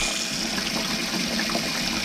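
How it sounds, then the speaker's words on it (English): Leather dunked and held under lukewarm water in a sink, giving a steady close gushing, bubbling wash of water that runs on without a break. "with enough water in the sink to submerge the leather, we just go ahead, dunk it until the bubbles stop"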